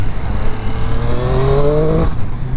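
Motorcycle engine heard from the saddle on a seafront ride, a loud steady drone that rises in pitch as the bike accelerates, then drops off sharply near the end, with heavy wind rumble and no talking.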